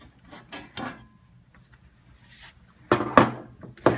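Clicks and knocks of the bezel coming off a Cincinnati Milacron Acramatic CNC control panel once its screws are out, scattered light taps followed by a louder cluster of close clunks near the end, with no speech.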